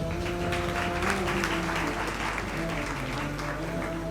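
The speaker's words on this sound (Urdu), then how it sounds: "آپ تمام اپنے لیے تالیاں بجا لیں." Graduates of a certificate course applaud themselves at a Team Karachi and Hamdard Foundation Pakistan ceremony, a steady, dense roar of clapping from a large crowd over a low, constant tonal hum, lasting throughout at even loudness.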